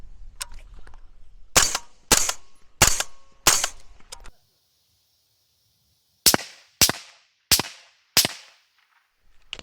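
A suppressed M4-variant rifle in 5.56 with a 14.5-inch barrel and reflex suppressor fires eight sharp, close shots: four evenly spaced, a pause, then four more, with no talk over them.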